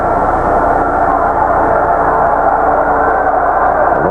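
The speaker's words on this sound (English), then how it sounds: "Lonesome whistle in the background as the train goes by" A passing train with a lonesome whistle near fairgrounds during a televised football game: a steady, dense broadband rumble holds evenly throughout, loud and continuous, with no distinct whistle blast standing out.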